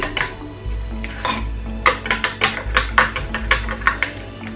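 A spoon stirs a lemon detox tea in a cup, with a run of light, quick clinks and taps against the sides close by, and no talking.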